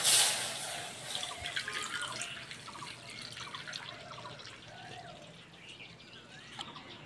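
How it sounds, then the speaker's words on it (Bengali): Milk pouring into a pan set on the stove, a soft continuous trickle with faint dripping and liquid splashes, close and fairly quiet throughout with no talk. "এইবার দুধটা দিয়ে দেবো"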